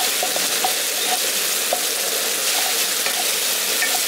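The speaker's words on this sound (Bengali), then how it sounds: "এবার জলটা দিয়ে এটাকে ভালো করে আগে কষিয়ে নিচ্ছি" Spice paste with water sizzles and fries in a pan for a village-style dahi capsicum paneer dish, a constant crackling hiss broken by repeated light scrapes and taps of stirring.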